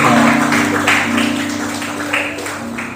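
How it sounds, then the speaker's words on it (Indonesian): Congregation applauding at a church sermon, a steady dense wash of clapping that fills the clip at a loud, even level, with a low sustained tone underneath. "Tepuk tangan kembali"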